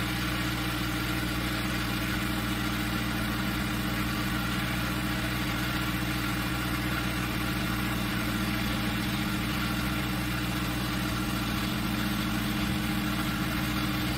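A small DC motor spins a flywheel in a flywheel energy storage rig powering LED lights, giving a steady whirring hum with strong low tones that rise gradually toward peak speed and hold there throughout.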